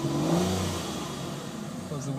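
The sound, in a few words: Aston Martin DB9 Volante V12 engine revving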